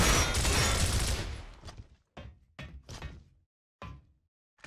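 Gunfire in Gears of War, a sustained loud burst of shots that fades out, followed by several separate sharp single cracks with short silent gaps between them.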